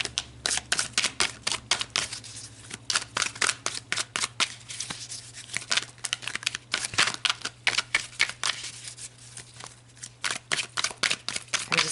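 Tarot cards being shuffled by hand, a dense run of quick crisp riffles and snaps with short pauses between bursts, close and fairly quiet, with a low steady hum underneath and no talking.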